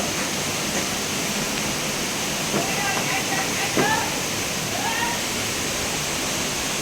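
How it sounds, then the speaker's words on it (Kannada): The Kabbaragi waterfall near Hanumasagar roars with a constant, heavy rush of water, loud and steady throughout, with faint voices briefly audible beneath. "ಕಬ್ಬರಿಗಿಯ ಈ ಒಂದು ಜಲಪಾತ"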